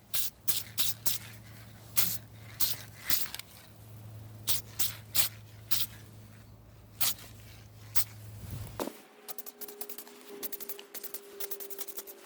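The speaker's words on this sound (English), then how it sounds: "This is actually just a type of spray paint." Short bursts from a can of spray paint coating galvanized boat trailer metal over treated rust spots, a quick irregular series of hisses close by, followed by quieter handling noise with a faint hum.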